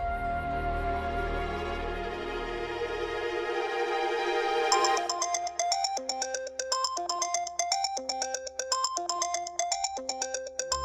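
A phone ringtone plays a bright, repeating electronic melody in a steady rhythm, loud and clear after a busier musical passage fades out.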